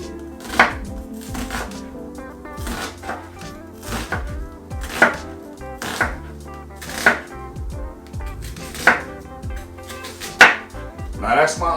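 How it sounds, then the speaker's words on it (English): A knife chops an onion on a cutting board, with sharp knocks at an even pace of roughly one every second over a faint background of music. "We'll take this onion, chop it up, cut it up."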